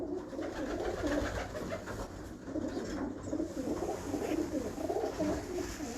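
Breeder pigeons coo in repeated soft, throaty phrases, several birds overlapping close by in a continuous, rolling murmur with no voices.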